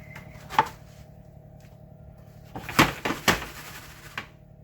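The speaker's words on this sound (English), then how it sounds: "Let me give them a shake here." Pecans for keto candy shaken in a pan, a quiet start with one soft knock, then a burst of several rattling, clattering jolts and a final light tap.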